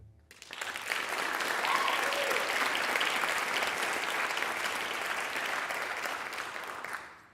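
An audience at an OTS graduation ceremony applauds steadily for about seven seconds to welcome Lieutenant Colonel Brinkley, a dense, even wash of clapping that swells quickly and fades at the end.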